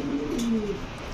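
A pigeon gives a single low, throaty coo, close by and clear over a steady background hum.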